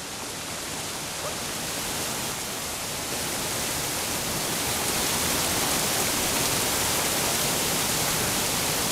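Steady, dense roar of rushing water from a waterfall in the video game Black Myth: Wukong, a continuous broadband wash that holds loud and unbroken, swelling slightly over time, with no voices.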